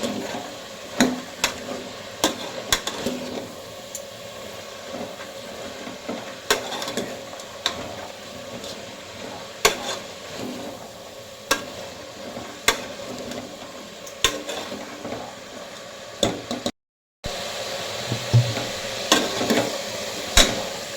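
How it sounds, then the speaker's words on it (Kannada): Snake gourd pieces are stirred and fried in oil for sambar, with repeated sharp spatula knocks and scrapes against the pan over a soft, constant sizzle, briefly cutting out before resuming. "ಇದನ್ನು ನೀಟಾಗಿ ಮಿಕ್ಸ್ ಮಾಡಿಕೊಂಡು ಫ್ರೈ ಮಾಡಿಕೊಳ್ಳಿ. ಎಣ್ಣೆಯಲ್ಲಿ ಸ್ವಲ್ಪ ಅದು ಹಸಿ ವಾಸನೆ ಹೋಗಬೇಕು ಪಡವಲಕಾಯಿ."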